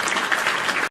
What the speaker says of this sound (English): Round of applause for Grapple Vision.